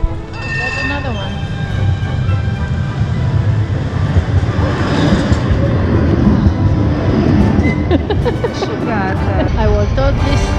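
An old tram rolls along a street in Sofia with a loud, steady rumble and rail squeal passing close by, while city noise and voices mix underneath.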